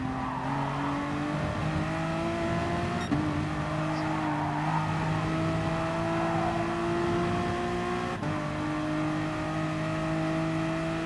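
Honda NSX race car in GT Sport at Spa, its engine droning steadily with sustained harmonic whine and brief dips at gear shifts, tires faintly scrubbing, loud and continuous throughout.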